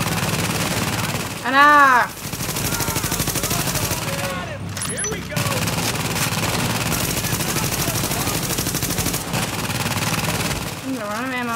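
Rapid automatic gunfire from a player's gun in The Division video game, running steadily through most of the stretch with brief pauses, mixed with game sounds and a short shouted voice.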